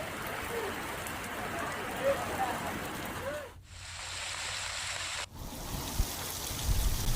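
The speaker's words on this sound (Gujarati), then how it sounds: "નાગવા, દગાચી સહિતના દીવ જિલ્લામાં કડાકા ભડાકા સાથે વરસાદનું આગમન થયું છે" Heavy rain falling in Diu district as a steady, dense broadband hiss. It cuts out abruptly for a couple of seconds, then returns at similar strength, with no voices.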